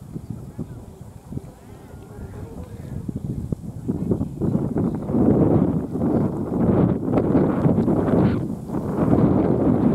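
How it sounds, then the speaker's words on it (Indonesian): Strong wind buffets the microphone at an outdoor kite flying contest, rumbling in rising and falling gusts that grow louder partway through, with people talking and calling out over it. "anginnya tambah kencang"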